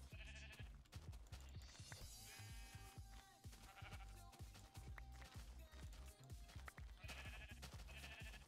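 Minecraft sheep in Betacraft gameplay bleat several times, wavering calls standing out over steady rhythmic game music and repeated footstep thuds, close and clear.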